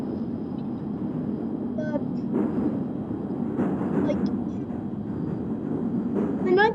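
A 1995 stock Northern Line train in the OpenBVE simulator rumbles steadily at low pitch with a constant motor hum, brief whines and clatters rising over it, while someone talks across the running sound.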